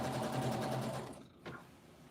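A sewing machine stitches the last seam of a quilt in a fast, even, close-up whir of rapid needle strokes that slows and stops about halfway through, followed by a soft click.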